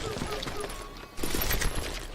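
Rapid bursts of gunfire from the Western shooter video game Call of Juarez: Gunslinger, rattling continuously and fairly loud, louder in the second half.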